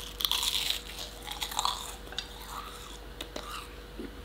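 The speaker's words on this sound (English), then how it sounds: "It's so crunchy, just listen to this." Crisp crunching bites at close range into puff pastry cooked in a waffle maker, a flurry of crackles followed by softer chewing, with a faint whisper-like sound.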